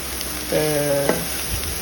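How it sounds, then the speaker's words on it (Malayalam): Red amaranth greens are stirred and sautéed in a pan, giving a close, steady sizzle with soft stirring sounds and a brief tonal hum partway through. "ചീര ഇട്ട് കൊടുത്ത് അത് നന്നായിട്ട് ഇളക്കി വഴറ്റി കൊടുക്കുക"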